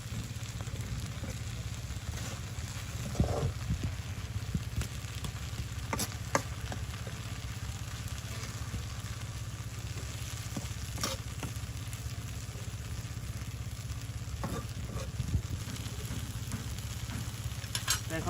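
Kolmi shak (water spinach) sizzles steadily in a hot pan as it is stirred, a constant close frying crackle with occasional scrapes and clinks of the spoon against the pan.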